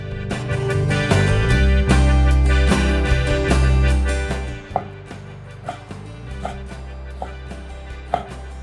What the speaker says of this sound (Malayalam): അതിലേക്കായി നമുക്ക് ചെറിയ കഷ്ണങ്ങളായിട്ട് അരിഞ്ഞെടുക്കാം